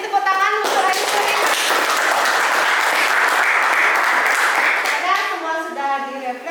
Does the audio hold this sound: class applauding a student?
yes